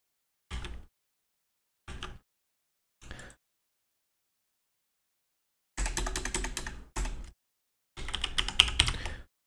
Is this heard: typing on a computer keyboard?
yes